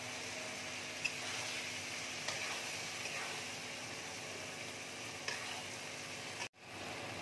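Ground cashew and melon seed spice paste frying for navratan korma, a steady close sizzle with faint stirring clicks that runs throughout and cuts out briefly near the end.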